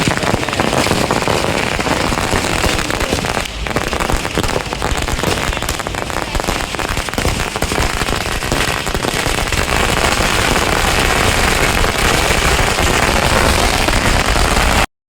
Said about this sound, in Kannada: ಯಾರು ದೊಡ್ಡ ರೋಲ್ ಪಟಾಕಿ ಎಲ್ಲ ಹಾಕ್ತಾ ಇದ್ರು